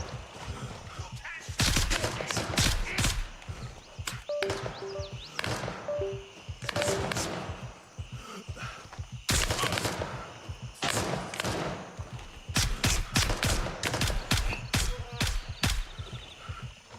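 Gunfire from the video game Gray Zone Warfare rings out in repeated loud bursts and rapid volleys, spaced by short pauses, with dense, sharp shots clustering toward the end.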